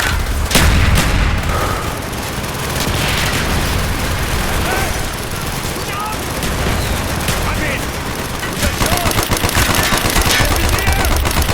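In Call of Duty: Black Ops, a mortar fires amid a dense, continuous battle din of rapid gunfire and booms, loud and close throughout, with voices shouting under the noise.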